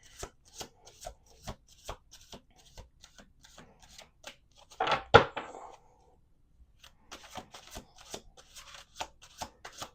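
Tarot cards are shuffled in quick riffling bursts and soft taps, with one louder, longer riffle in the middle and scattered flicks around it.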